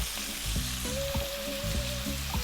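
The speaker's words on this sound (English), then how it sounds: "Next up, I'm going to drop in a tablespoon of garlic" Chopped garlic fries with lamb in a pan, a loud steady close-up sizzle with rhythmic stirring or scraping pulses throughout and a faint tonal whine in the background, no talking.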